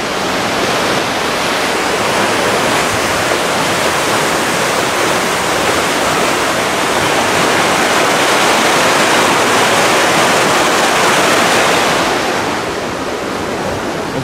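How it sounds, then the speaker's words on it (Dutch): High Rhine river water rushes over an edge in a steady, loud roar of broadband white-noise turbulence that holds for about twelve seconds before dropping slightly. "Het water stroomt allemaal in dit gebied hierin."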